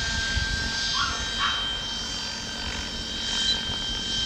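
A DJI drone running an XP3.1 flight controller hovers steadily at constant altitude, its propellers giving a continuous buzzing whine with a faint shifting tonal hum, moderately close and alone throughout.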